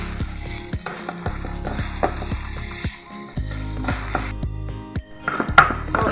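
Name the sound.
frying rice in a pan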